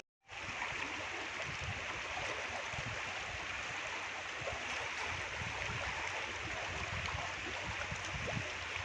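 River water flows in a steady, rushing hiss that starts abruptly and continues unbroken throughout, the Sutlej River swollen by inflow from the Swan River near Lodhipur and the Burj bridge.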